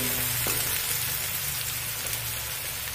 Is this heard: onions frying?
yes